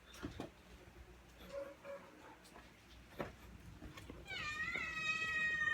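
Cats meow outdoors, a drawn-out rising cry heard toward the end over low background noise and faint distant sounds, with muffled voices in the surroundings.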